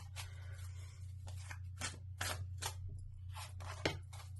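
Cards shuffled repeatedly in quick, crisp riffles and flicks over a low steady hum, no voices.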